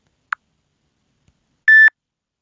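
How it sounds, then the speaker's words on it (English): Two short electronic beeps sound in a quiet background, a brief soft blip followed by a longer, clearer tone, an Android phone text message notification. "Message notifications, like when I get a text message."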